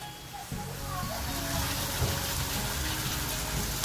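Half a glass of water is poured into a cooking pot while lengua is cooked, a gushing splash starting abruptly and running steadily to the end as a person talks over it.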